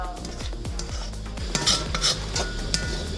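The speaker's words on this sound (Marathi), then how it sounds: "त्यानंतर आपण त्याच्यामध्ये खोबरं टाकतोय" Grated coconut gets stirred into browned onions in a pan while cooking egg curry (anda kadhi), with a metal spoon clanking and scraping against the pan in a steady rhythm and faint sizzling underneath.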